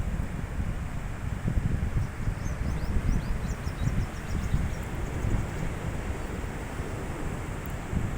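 Waves wash steadily onto a beach at Muscat, Oman, a continuous broad surf roar mixed with wind rumble on the microphone, with no talking.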